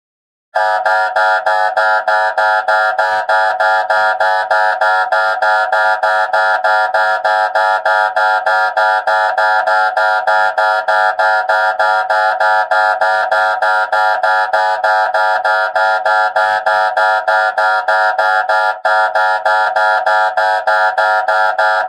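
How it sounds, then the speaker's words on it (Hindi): An alarm clock goes off with a loud, rapid electronic beeping that repeats without a break for about twenty seconds at the same steady pitch, with nothing else heard around it. "ये 1 बजे का अलार्म क्यों लगा हुआ है?"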